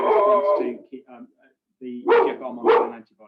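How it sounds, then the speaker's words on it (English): A pet dog barks indoors a few times in short, sharp yips, mixed in with someone speaking during an online research presentation. "Apologies, that's my dog."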